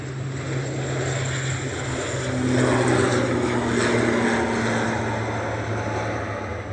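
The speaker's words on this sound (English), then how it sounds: "Here we go, ATR 72." An ATR 72 turboprop airliner at Manchester Airport gives a steady, loud propeller drone with a low hum and a high whine, swelling slightly midway and holding throughout with no talk.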